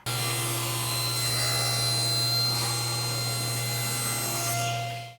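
A power saw with a steady motor hum cuts thin wood strips for a jewelry box, a continuous rasping cut lasting several seconds before the blade winds down.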